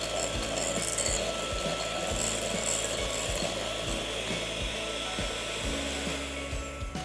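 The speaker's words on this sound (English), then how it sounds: "Continue whisking." An electric mixer whisks butter with icing sugar and vanilla for butter cookies, a continuous close motor whir with regular rhythmic knocks of the beaters against the bowl throughout.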